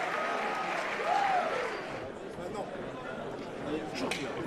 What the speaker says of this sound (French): sous vos applaudissements spontanés